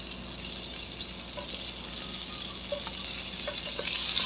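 Garlic and red onion sizzle steadily in a hot pan, making a continuous close frying hiss with faint stirring scrapes that grows slightly louder toward the end.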